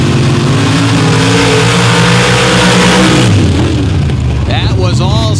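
Big block Chevy super stocks, a '91 Blazer against an S10, drag race at Paducah with a loud, sustained engine roar that shifts pitch as they pass, and a voice comes through near the end.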